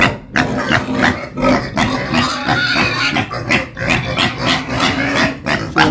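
Pigs on a Vietnamese rural farm squeal and grunt loudly and close by in a continuous, raucous burst of harsh repeated cries.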